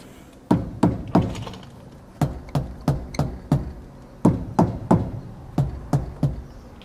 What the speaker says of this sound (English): you get a hammer or a mallet and you hit them.